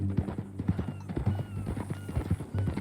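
Horse hooves clip-clop in a steady walking rhythm in Red Dead Redemption 2, clear and close, with faint background ambience.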